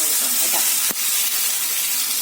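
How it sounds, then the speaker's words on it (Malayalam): Mustard seeds and shallots sizzle in hot oil, a steady, close hiss of frying with a brief sharp crackle partway through and a voice talking over it. "കടുക് വറുക്കുമ്പോൾ നമുക്ക് ഈ ഉള്ളിയും കൂടെ ഒന്ന് വയറ്റി ചേർക്കണം കേട്ടോ"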